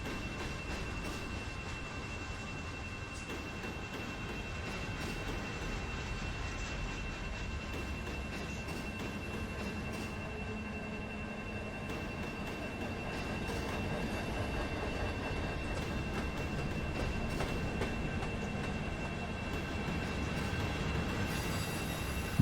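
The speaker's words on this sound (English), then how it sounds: "we'll take this train up to Talbotton, we'll run around it, and then we'll head south a little bit" A freight train hauling rock runs steadily in Run 8 Train Simulator, a continuous rolling rumble with faint wheel and track clatter and a thin sustained squeal, holding even loudness for over twenty seconds.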